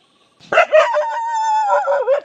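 A dog lets out a drawn-out, tonal howling bark close by, rising and wavering for nearly two seconds before breaking off.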